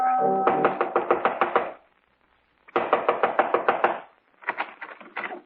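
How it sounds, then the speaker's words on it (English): Knocking on a front door in a radio drama: three bursts of rapid hollow raps separated by pauses, close and fairly loud, the first burst overlapping the fading end of a musical tone. "Within 15 minutes, I was knocking on his front door."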